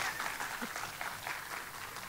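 At a public forum on drafting a people's constitution, the audience gives a brief round of light, distant-sounding applause, thin and fairly quiet.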